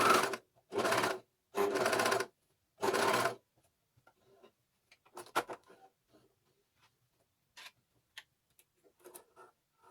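A coverstitch sewing machine hems a Named Clothing Inari top in four short, loud bursts of rapid motor stitching. Quiet clicks and handling noises follow once it stops.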